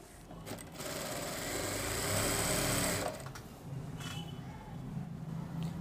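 Electric sewing machine attaching piping along the slit neckline of a suit, a steady motor whir that rises in the middle and runs on continuously near the mic.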